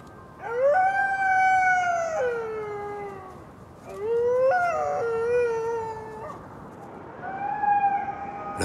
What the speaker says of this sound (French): La voix des loups est faite pour les montagnes.